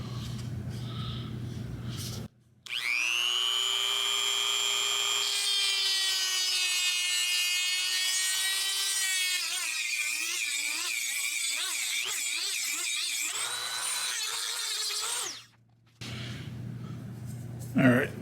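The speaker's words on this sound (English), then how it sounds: "I'm just using a basic grinding bit, and we're just going to grind this out to make it nice and round." A basic grinding bit grinds out the opening of a turbo manifold with a loud, high, whining rotary screech that holds for long stretches, wavers under load and stops abruptly between passes.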